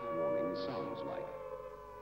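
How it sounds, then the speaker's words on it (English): Air attack warning civil defense siren at Nancekuke, a wailing tone that rises and falls over two seconds, loud and steady with sweeping harmonics. "The air attack warning sounds like"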